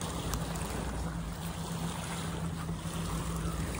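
Fishing trawlers and boats sit in the harbour at Mirissa, Sri Lanka, amid a steady broadband wash of sea, wind and a low motor drone, with a faint steady hum running through.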